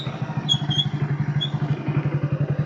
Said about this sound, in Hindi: तो मैं बाइक लेके आ गया